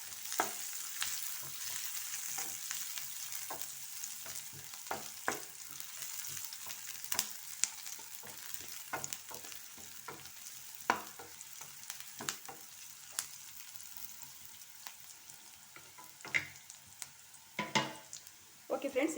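Onions fry in a pan for a vegetable Maggi, giving a soft continuous sizzle broken by frequent scraping and stirring clicks from a spatula, close and fairly quiet.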